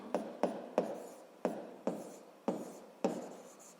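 A pen writes on paper in short, separate scratchy strokes, about eight of them spaced unevenly, each a brief scrape that fades quickly. The sound is close and quiet, with no voices.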